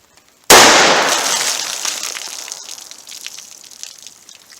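A single sharp .38 Special Superevil gunshot fired into bologna, particle board, denim and water jugs, a sudden loud crack followed by splashing water and a long decaying spray of debris and drips.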